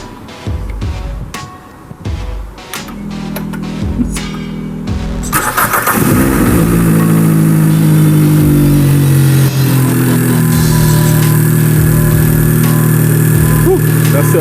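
A car engine fitted with new OBX headers cranks and catches, then roars into loud, sustained revving up close. Speech is heard before the start and through the running engine.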